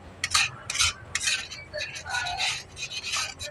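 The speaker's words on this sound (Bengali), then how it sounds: "লো হিটে ভালো করে মশলাটা কষে নিতে হবে। এবার নাড়তে থাকবো" A utensil scrapes and clinks repeatedly against a pan as spice masala is stirred on low heat, a close, irregular rhythm of metallic strokes with no talk.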